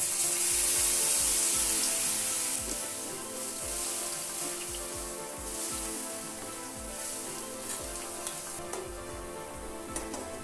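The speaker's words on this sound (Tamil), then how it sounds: "லோ ஃப்ளேமில் வச்சு இந்த பூந்தியை ஃப்ரை பண்ணியாச்சு" Boondi made from gram flour batter frying in oil over a low flame, a steady soft sizzle with rhythmic low thumps and occasional light scraping, close and alone.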